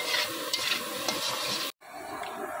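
A spatula stirs and scrapes food in a cooking pan with steady sizzling, soft repeated scraping strokes close by, broken by a brief silent cut near the end before the frying continues.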